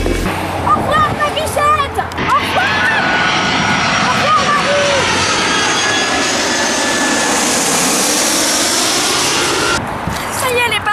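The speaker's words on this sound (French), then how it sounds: "Et là, il part où l'avion avec Marine Le Pen dedans" An airplane engine drones in flight as a comedy sketch sound effect, a broad rushing roar that swells and holds for several seconds, with someone speaking over it at the start and end.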